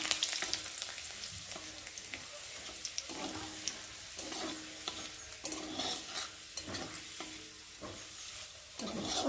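Garlic cloves frying in hot oil for a potato mash recipe, a steady soft sizzle punctuated by repeated scraping and stirring strokes of a spoon against the pan, close and fairly quiet.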